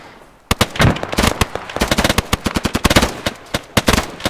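Suppressing gunfire in a mock combat exercise, a loud rapid series of sharp cracking shots in bursts and single reports, close by with some more distant shots mixed in.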